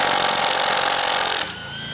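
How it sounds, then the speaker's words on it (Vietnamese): A DeWALT impact wrench hammers loudly and continuously on a 19 mm wheel lug nut, a dense rattling burst up close, then drops to a lower whirring spin as the nut comes loose. "Em test mở ốc bánh xe số cho anh em xem nhé."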